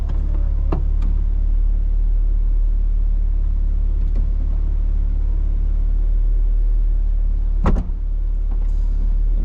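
A BMW E89 Z4 35i M Sport's folding metal hardtop roof raises with a steady electric motor hum and low rumble, punctuated by a few sharp clunks and latch thuds as the panels lock, near and loud.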